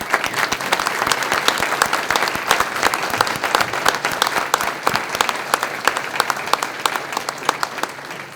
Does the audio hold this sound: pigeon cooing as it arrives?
no